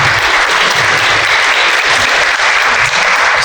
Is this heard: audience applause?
yes